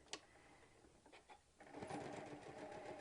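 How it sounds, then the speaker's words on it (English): A sewing machine stitching fabric at a quarter-inch seam, starting quietly and then running in a fast, steady mechanical whir, close and fairly soft. "So right now we're just going to sew this at 1/4 inch."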